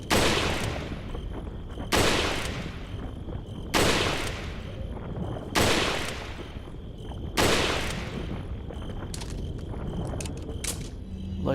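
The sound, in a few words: rifle gunfire in the video game Resident Evil 4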